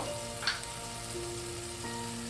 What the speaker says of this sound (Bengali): দিয়ে এই মশলাটাকে ভালো করে কষিয়ে নেব